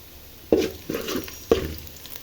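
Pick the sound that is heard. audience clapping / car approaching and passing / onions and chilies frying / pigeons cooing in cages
onions and chilies frying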